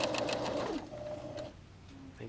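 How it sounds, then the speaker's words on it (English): A sewing machine stitches over pins on fine jacket lining fabric, giving a close, brief mechanical whir that falters partway through, with a person talking over it. "It doesn't like sewing over the pins on this finer fabric."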